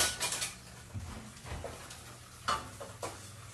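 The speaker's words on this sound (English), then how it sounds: "I'm just going to give that a little stir." Sauce is stirred in a pot with a utensil, giving soft scraping and clinking taps at an uneven pace over a quiet kitchen background and a low hum.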